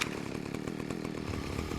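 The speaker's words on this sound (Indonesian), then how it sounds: "Dia bawa gergaji ini chainsaw, gergaji mesin." Boss wielding a chainsaw in the video game ARK Survival Ascended, a continuous loud buzzing engine whine with rapid pulsing throughout, no talk.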